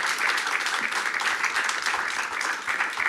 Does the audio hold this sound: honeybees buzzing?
no